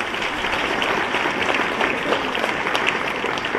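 A large crowd of farmers at an outdoor political rally claps loudly and steadily, a dense continuous wash of applause with no pauses, close and full throughout.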